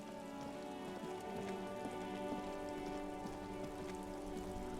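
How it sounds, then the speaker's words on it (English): Steady rain in Disco Elysium patters on surfaces, a dense continuous hiss with scattered drop ticks over a low tonal hum, no voices. "It's raining again."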